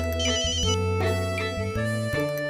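A phone rings with a loud melodic electronic ringtone, a quick sequence of bright tones playing continuously and close up with no talking.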